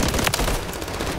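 Rapid gunfire rattles through a frantic video game match, a loud, dense burst of overlapping shots lasting about a second.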